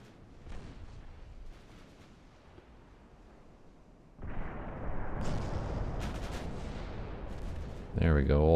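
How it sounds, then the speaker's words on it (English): Warship guns firing in the naval game Ultimate Admiral: Dreadnoughts, first scattered muffled thuds, then a sustained rumbling barrage of heavy gunfire and shell hits that grows louder, ending in a sharp loud burst. "all the guns are finally hitting stuff and doing damage"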